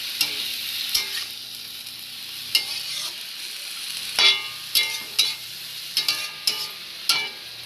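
Spinach greens stir-fried with bori in a pan, a steady soft sizzle with repeated scraping stirs and knocks from the spatula, close and alone.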